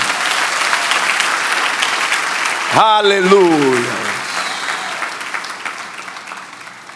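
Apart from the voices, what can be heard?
congregation applauding in church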